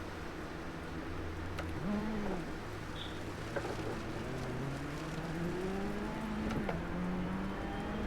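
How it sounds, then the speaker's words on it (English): Car engine in a racing video game, a faint steady drone with rising and falling revs as the car accelerates and shifts through a lap, heard alone at low level. "I love the sound of this car."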